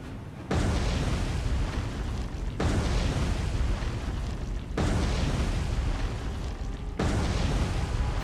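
Torpedoes explode against a ship in the naval video game War on the Sea: four heavy, sustained booming blasts in a row, each one a thick roar that lasts about two seconds.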